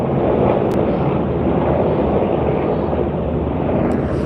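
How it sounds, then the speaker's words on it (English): Four helicopters passing overhead produce a steady, loud, broadband rotor roar that holds evenly throughout, with wind buffeting the microphone and no speech. "these are 4 helicopters"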